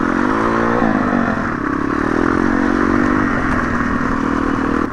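An MRF 140 RC pit bike ridden off-road, its small engine buzzing loud and close with steady throttle and slight pitch changes, plus rattling and scraping over rough ground.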